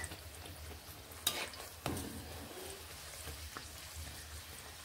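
Dal puri frying in hot oil, a soft continuous sizzle with a couple of sharp splashes or clatters near the start, fairly faint and with no one speaking.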